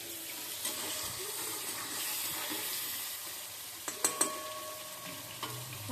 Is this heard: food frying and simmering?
yes